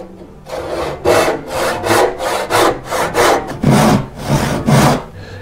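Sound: handsaw cutting a dovetail in wooden molding

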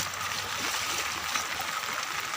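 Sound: wading through knee-deep water on a village path

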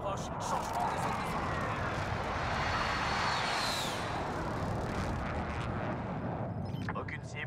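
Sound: air strike aircraft in video game Call of Duty Warzone

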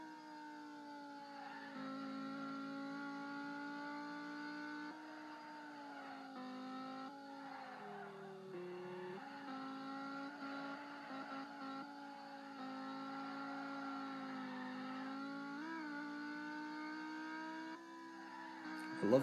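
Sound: Dodge SRT Viper ACR driving, engine and tires, Assoluto Racing video game

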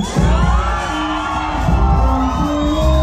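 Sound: crowd applause and cheering

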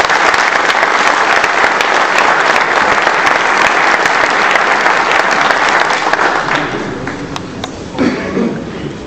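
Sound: warm audience applause

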